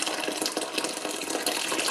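Water pours steadily from a tap into a half-gallon jug of passion fruit wine as it is topped up, a close, continuous splashing hiss with no talking.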